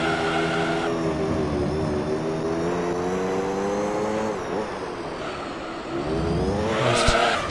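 A race car engine in Gran Turismo 3 hums steadily at moderate revs as it coasts toward the pits, pitch shifting slightly with a brief dip and a faint tire squeal near the end.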